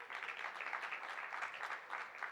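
Audience applause at an Israel Independence Day student gala, a fairly faint, continuous patter of many hands clapping at a steady level from start to finish.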